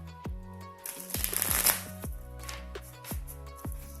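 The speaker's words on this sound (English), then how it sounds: "as I'm shuffling these cards" Tarot cards being shuffled by hand: a series of crisp riffling bursts and soft taps in an irregular rhythm, close and fairly quiet, with no talk.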